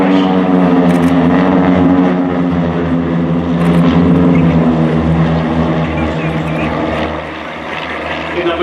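Propeller aircraft of the Royal Norwegian Air Force Yellow Sparrows display team fly in a triangle formation at RIAT 2024, with a loud, close, steady droning hum that eases slightly near the end.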